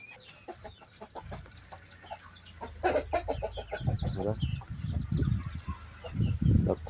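Chickens and a young rooster cluck and chatter in short, irregular calls at close range while drinking water, growing busier and louder toward the end.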